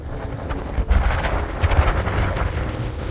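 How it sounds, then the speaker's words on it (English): Strong wind buffets the microphone at a mountaintop viewpoint in Shenandoah National Park, Virginia, in a steady low roar with gusty surges, no voices, loud and close throughout. "A little windy out here."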